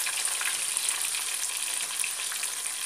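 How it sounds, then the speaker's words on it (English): Frozen fries crackle and sizzle steadily in hot oil in a saucepan, a continuous bright hiss at moderate volume with no voices. "put these like frozen fries into the saucepan"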